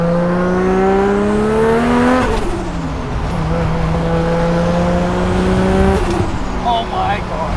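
A straight-piped big-turbo Mk4 Toyota Supra with a 2JZ engine accelerating hard through gears, rising raspy engine tone cut by sharp shifts, loud from inside the car, with turbo whistle and flutter, and a voice occasionally heard underneath.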